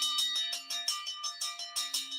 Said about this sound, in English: This new bell is growing on me.